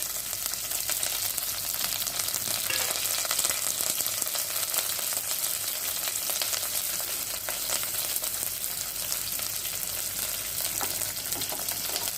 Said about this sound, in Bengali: পেঁয়াজ আর পটল একসঙ্গে ভেজে নিচ্ছি।